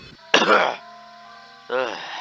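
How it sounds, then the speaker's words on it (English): A short, rough cough from an elderly character in a dramatized story adaptation, followed by a faint sustained tone and then a second throaty vocal rasp. "The old engine sighed and coughed a moment"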